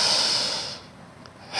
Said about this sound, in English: And exhaling completely empty through your nose.